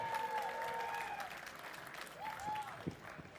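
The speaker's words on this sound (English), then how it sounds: "give a round of applause for those two" Applause from the audience at a charity benefit show, a wash of clapping through the whole stretch, moderately distant, with tonal sounds and some voices layered over it.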